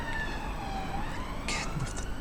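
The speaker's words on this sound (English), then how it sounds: "Again with the damn sirens." A siren wails in a slow rising sweep for about two seconds, fairly faint under broadband noise, with a few sharp bursts near the end.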